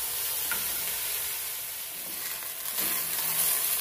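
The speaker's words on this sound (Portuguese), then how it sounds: "Já vou dourar aqui na panela que está quente com óleo" Six chicken thighs browning in hot oil in a pan give a steady, close sizzle and crackle throughout, with no talking.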